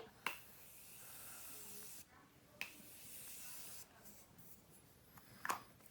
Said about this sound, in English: I'm going to set my face with setting spray